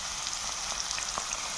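Small potatoes frying in a pan with salt and turmeric are stirred, giving a steady, soft crackling sizzle with faint scraping throughout.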